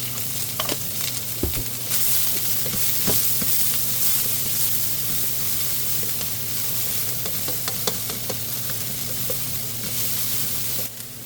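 Chopped onions sautéing in a pan for pork menudo, a continuous close sizzle and fry with scattered crackles and occasional utensil clicks throughout.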